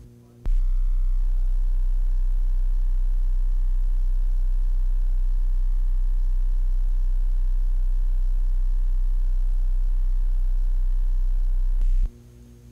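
A 31.5 Hz test tone from a reel-to-reel calibration tape plays as a steady, deep low hum for about eleven seconds, starting and stopping abruptly, with faint tape hiss and mechanical noise behind it.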